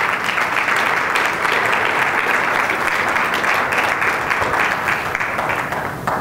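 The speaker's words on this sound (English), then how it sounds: "Give her a great big round of applause." A large crowd applauds loudly and continuously, a dense wash of clapping that holds steady throughout.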